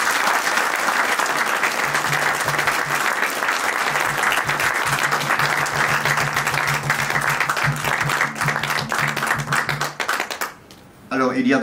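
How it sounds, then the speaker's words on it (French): Sustained applause from an audience at a French poetry tribute, dense clapping filling the room for about ten seconds before tapering off abruptly near the end, with a low hum underneath. "Je pense qu'elle mérite quelques petits applaudissements pour ça."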